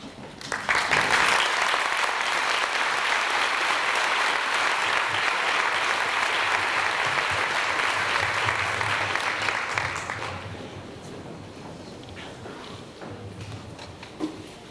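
Loud, sustained audience applause at an 8th grade graduation ceremony, with dense clapping lasting about ten seconds before dying down to scattered claps and room murmur.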